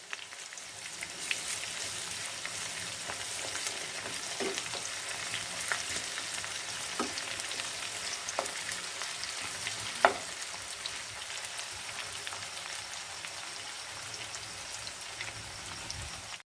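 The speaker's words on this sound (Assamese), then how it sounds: "এতিয়া মই দি দিম আদা আৰু নহৰু পেষ্ট।" Ginger garlic paste frying in a pan with browned onions for a chicken masala peanut curry, giving a steady, close sizzle and crackle with a few sharp pops, with no voices.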